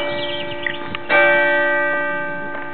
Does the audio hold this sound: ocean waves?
no